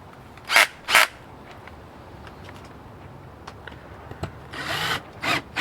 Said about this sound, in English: Drill another hole here.